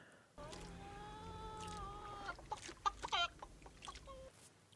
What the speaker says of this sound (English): It ain't the normal chicken, I tell you that.